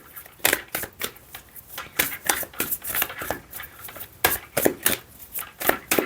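Tarot cards being shuffled by hand in quick, close riffling bursts, a dense run of crisp flicks and slaps that continues without pause and without talking.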